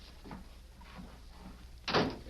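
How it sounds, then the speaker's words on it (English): A door to a sheriff's office opens in an old radio western drama, a soft creak and clunk near the end after a few faint footsteps, heard close and fairly quiet over a low background hum. "it was Buck Savage who early the next morning entered the door of Sheriff Cartwright's office"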